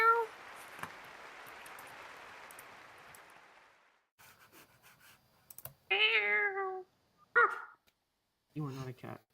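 After a fading hiss and some keyboard clatter, a person imitates a cat with several loud, close meows. Short pauses separate the meows, and speech-like sounds mix in.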